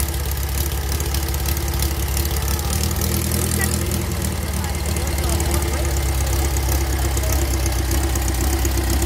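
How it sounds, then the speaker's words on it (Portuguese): A Volkswagen Beetle Baja engine running off-road makes a loud, steady, rumbling drone that continues throughout, close to the listener. "O Fusca tá empinando."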